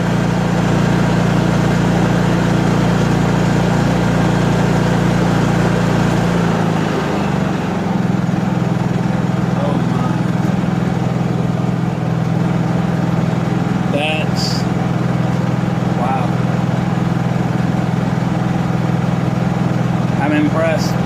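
A restored Honda EU3000iS inverter generator runs steadily after starting, a continuous low engine hum that holds evenly throughout, with someone talking over it.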